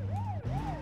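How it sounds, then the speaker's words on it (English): Siren of a police car, an 80s American fullsize sedan in the driving game BeamNG Drive, wailing in quick rising and falling sweeps over a low engine hum, close and steady. "Put their siren on."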